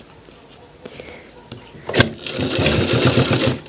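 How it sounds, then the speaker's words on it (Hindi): Sewing machine stitching a shirt collar: scattered faint handling taps, then a steady close mechanical whirr of the needle running builds and continues to the end, with no voices over it. "इस तरीके से बिल्कुल आराम से सिलाई लगाना है।"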